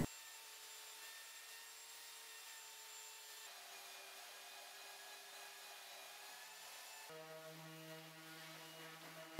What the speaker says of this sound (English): starting with a belt sander at 40 grit.